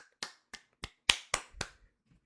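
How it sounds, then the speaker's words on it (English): A single person gives six sharp, separate hand claps at a slow, steady pace, each crisp and close, quiet overall with short gaps between and no talking. "So I just want to give a little clap."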